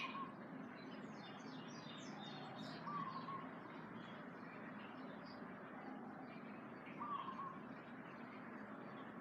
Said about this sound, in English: Just relaxing to the sounds of nature, the birds chirping.